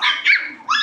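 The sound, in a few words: dogs barking at goats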